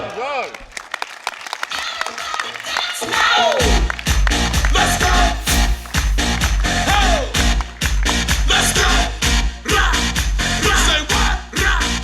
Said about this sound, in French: un tonnerre d'applaudissements et je veux que tout le monde crie son nom avec moi